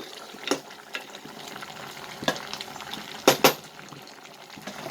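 Country chicken curry sautés in a pan with coriander, giving a soft continuous sizzle broken by a few sharp stirring clacks and scrapes, close and unaccompanied by talk.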